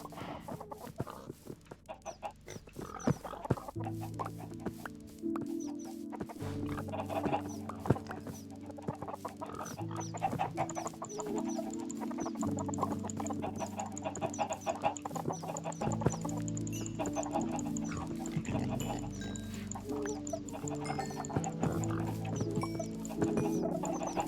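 Chickens clucking on a video game farm, repeated bird calls heard over a steady layer of game music and ambience, with no talking.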